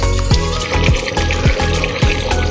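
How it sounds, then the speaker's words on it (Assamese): A close, steady stream of water pours and trickles into a metal pressure cooker holding duck meat, with faint rhythmic bumps underneath. "এতিয়া মই প্ৰয়োজন অনুসাৰে পানী দি দিম।"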